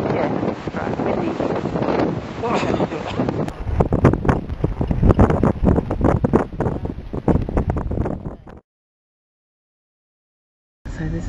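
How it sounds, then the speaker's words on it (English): Strong wind buffets the microphone at the seaside in Provincetown on Cape Cod, a loud continuous roar with gusty bursts that cuts out abruptly near the end, with faint voices underneath. "Very windy up here."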